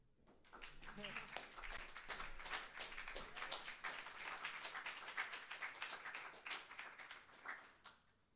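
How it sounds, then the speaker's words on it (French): Audience applause at a slam poetry stage during a 2014 poetry event in Liège, a dense, steady crowd clapping that swells quickly and holds for about eight seconds, fairly close and unbroken. "Je vous demande un tonnerre d'applaudissements pour Pascal"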